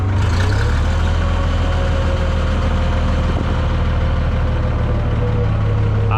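An IH 1026 tractor engine idling to warm up, a loud, steady low rumble with a firm throbbing hum that holds even and close for several seconds, with no talking over it.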